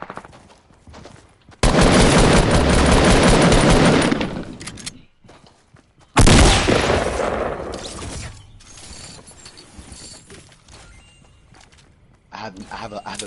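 Fortnite minigun and pistol fire, two long loud sustained bursts of rapid shots separated by quieter stretches with single shots and footsteps, with a voice talking in between.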